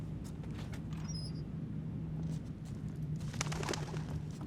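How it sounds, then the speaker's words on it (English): Birds in the video game Thief, a soft pigeon-like cooing and flutter over a low ambient drone, faint and spooky, with no talking. "I wasn't expecting the birds."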